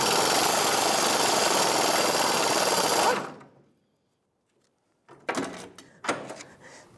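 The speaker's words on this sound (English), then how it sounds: "I'm going to be using a 13mm wrench or half-inch wrench and a 15mm socket with my air gun trying to get these to break free." Air gun with a 15mm socket working rotted bolts on the rear fuel tank straps of a 1992–1996 Ford F-150, a loud continuous hammering burst that stops, then short clattering bangs after a pause.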